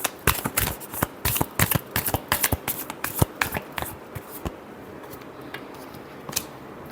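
Tarot cards being shuffled by hand: a quick run of crisp riffling flutters and soft slaps, close and fairly loud for about five seconds, then trailing off into quieter room tone with a final faint flick.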